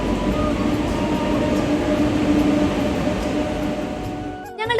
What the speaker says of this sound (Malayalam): അങ്ങനെ നമുക്ക് പോയ ട്രെയിൻ മന്ദം 4ാമത്തെ പ്ലാറ്റ്ഫോമിലേക്ക് വന്നെത്തി.